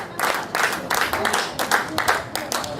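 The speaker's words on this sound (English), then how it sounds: "Round of applause for Alonso, y'all." A live audience at a touring stage show claps and cheers for a performer coming to the stage, a dense, noisy ovation rising and falling in bursts for about three seconds.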